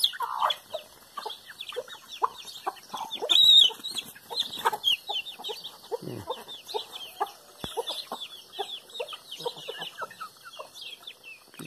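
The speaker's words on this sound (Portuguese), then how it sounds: "E aqui está a criação das galinhas aqui." A backyard flock of hens clucks steadily and chatters close by, with overlapping calls and a brief louder squawk, no talking.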